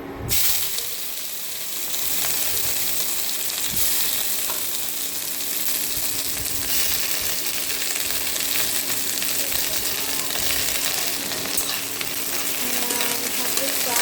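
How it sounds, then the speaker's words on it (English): Onions sizzle steadily in smoking-hot oil for a Manipuri green peas curry, a loud continuous frying hiss with occasional stirring scrapes, no voices. "I'll check this one after I fry the onion and this oil."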